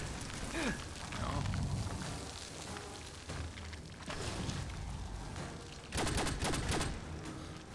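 Rapid gunfire from a weapon in the video game Fallout 4, several sharp bursts of shots with a heavy cluster near the end, over a noisy game soundscape with clattering and impacts.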